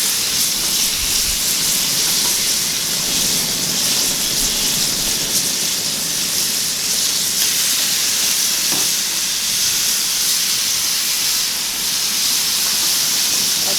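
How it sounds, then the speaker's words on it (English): Constant loud sizzling and crackling of rainbow trout frying in hot oil, a dense hiss that holds steady without a break. "Hear that nice sizzle."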